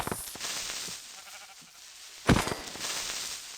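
A single Minecraft sheep lets out a short bleat midway, faint and nearby, over quiet game ambience with a few soft clicks.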